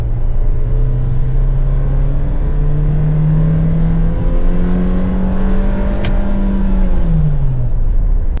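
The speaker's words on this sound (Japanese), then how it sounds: "スポーツカーに見劣りしない元気のいい直4サウンドが響いて、NA らしいトルク特性で加速していくんです" A Suzuki Jimny Nomad's naturally aspirated 1.5-litre, 102-horsepower inline-four engine revs up under acceleration, its droning pitch climbing steadily before dropping off, loud and continuous with a low road rumble beneath.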